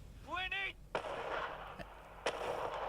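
Gunfire in Destiny 2 cracks out as two or three sharp, fairly loud shots spaced apart, mixed with game effects and a brief rising electronic chirp, with a voice briefly heard.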